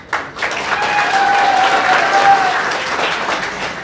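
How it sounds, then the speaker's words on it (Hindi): Students in an audience break into loud, dense applause that swells quickly and holds steady, with hooting and whistle-like cheers riding over the clapping before it starts to fade. "वो हुटिंग करें और तालियां हो जाए।"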